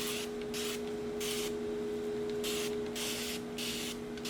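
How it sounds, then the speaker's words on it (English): A spray bottle fires repeated short bursts of fine water mist onto hair in a steady rhythm, close by, with a constant low hum underneath. "then I just go in with my spray bottle, and as I spray"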